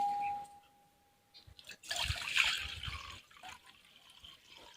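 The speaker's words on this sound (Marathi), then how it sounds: "आता आपल्याला हे जे पाणी आहे हे काढून घ्यायचं" Soaking water is poured off rice being prepared for rice papad, a close burst of splashing and trickling lasting about a second, followed by softer dribbles, alone and without talk.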